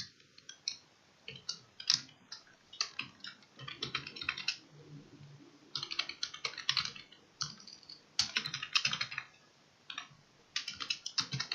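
Quiet keystrokes on a computer keyboard come in irregular bursts of rapid clicks separated by short pauses, close and clear with no talking.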